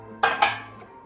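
Two sharp metallic clanks of a pot being handled while chickpeas are moved into a pressure cooker, close and distinct, followed by a fading ring and faint kitchen background.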